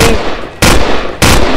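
Three loud, close gunshots crack at an even pace from a Cyberpunk 2077 knock-off video game, each sharp blast ringing briefly before the next.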